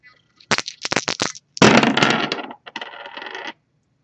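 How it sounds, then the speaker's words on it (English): Astrology dice rattle and tumble on a table during a tarot reading, several quick clicks followed by a longer clattering roll and a final settling rattle, close and crisp in a quiet room. "We're actually going to start the reading off by rolling those astrology dice we have in front of us"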